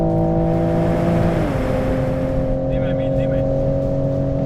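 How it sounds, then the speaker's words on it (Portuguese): A Toyota GR Supra A90 at full throttle on the Jarama circuit near 200 km/h, engine drone loud and close, dipping briefly at a gear change around a second and a half, then holding a steady high tone. "aceleramos a fundo em direção à reta da meta"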